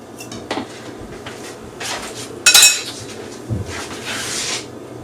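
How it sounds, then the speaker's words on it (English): A metal spoon scrapes and clinks against a bowl while coleslaw is mixed, in uneven bursts of clatter with one loud clanking scrape near the middle, close and clear, with no voices. "I'm going to scrape off a bunch of the stuff that's on there."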